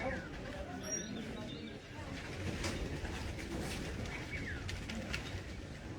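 Pigeons cooing on a rooftop among a flock of about a hundred birds, soft low coos under steady outdoor background noise, fairly near.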